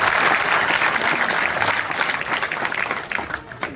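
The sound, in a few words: loud audience applause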